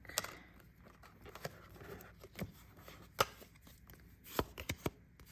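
A deck of tarot cards is cut and shuffled overhand close by, giving quiet riffling and sharp card slaps in an irregular rhythm, with no talking.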